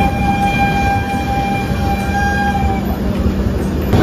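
The Dhruva Express passenger train rumbling loudly past at close range, with a steady horn tone sounding over the roar of the wheels and carriages for most of the stretch.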